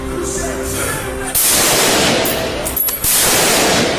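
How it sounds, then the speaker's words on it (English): Police gunfire in a real shooting incident: a loud, sustained volley of rapid shots rings out after a short stretch of radio-like hum, with a brief pause before firing resumes, harsh and close. "Shots fired by police."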